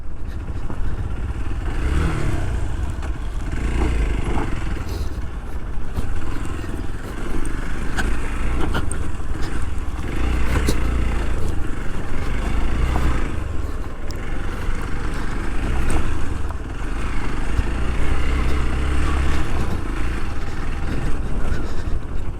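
Several off-road vehicles, likely motorcycles, drive over a rough dirt track in Maski, Uttara Karnataka, with a continuous loud engine drone and rumble, rising and falling revs, and occasional clattering throughout.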